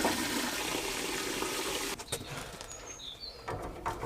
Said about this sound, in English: Just draining the boiler.